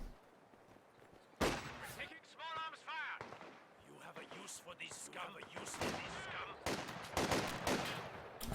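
Machine gun and other gunfire in a Company of Heroes 2 1v1 match, with clattering bursts and heavy impacts that come and go throughout, mixed with a commentator talking over the battle.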